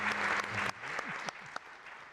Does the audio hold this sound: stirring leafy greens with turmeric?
no